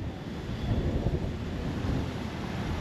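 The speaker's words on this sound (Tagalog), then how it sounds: "Biglang lumamig ang lakas ng hangin men." A strong, cold wind in San Francisco roars in a steady broadband rush, buffeting close to the microphone throughout.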